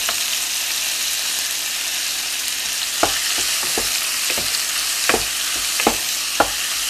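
Thai basil chicken stir-fried in a pan, a steady broad sizzle of frying with intermittent sharp scraping and clacking strokes of a spatula stirring, close and fairly loud, no talking.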